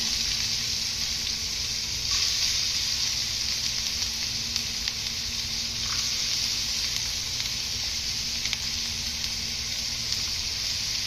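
Steady hot-oil sizzle of onions sautéing, a continuous bright hiss with faint occasional pops, close and fairly quiet, no talking.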